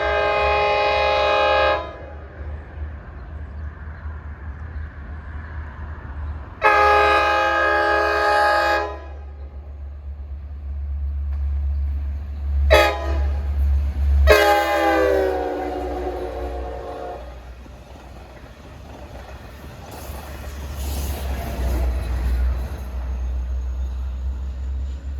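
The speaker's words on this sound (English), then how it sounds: "That's because it's got a K5L horn as opposed to a K5LL horn" A DM30AC locomotive, number 516, sounds its K5L horn in several long, loud blasts, a steady chord cut by pauses, over the rumble of the passing train.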